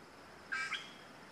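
A single harsh, squawking treepie call rings out briefly against a quiet, hissy background on Mount Kinabalu, Sabah.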